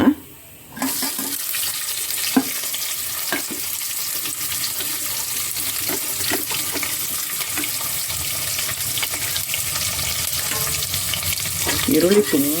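Onions hit a hot pan for soya palav, a brief silence breaking into a loud, steady sizzle and crackle that continues close up with occasional stirring.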